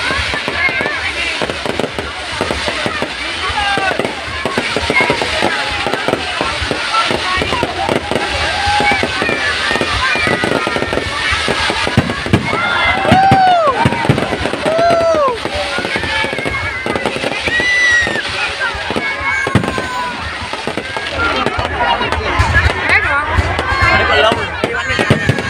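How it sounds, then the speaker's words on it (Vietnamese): Fireworks burst over Sầm Sơn beach at the 2022 festival opening, a steady barrage of crackling bangs and whistling rockets for the whole stretch, with a crowd murmuring and voices talking underneath. "xem pháo hoa khai mạc lễ hội Sầm Sơn năm 2022 tại bãi biển Sầm Sơn."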